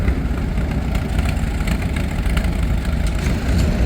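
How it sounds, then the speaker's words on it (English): Antique Model 77 tractor idling at a crawler and tractor show at a county fair, a steady rumbling engine drone that holds even and fairly loud, with no talk over it. "And this is model 77, maybe a Super 77."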